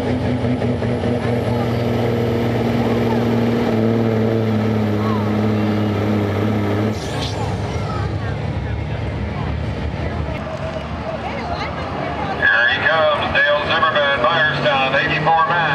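A 1999 Peterbilt semi truck drones loudly and steadily under load at a truck pull, with a high whine rising then dropping off, as a public-address voice talks over it.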